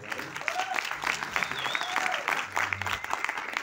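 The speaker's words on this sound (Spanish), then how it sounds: "Ahí, un fuerte aplauso." Crowd applause at a tribute event, sustained clapping from an audience with some voices and background music mixed in underneath.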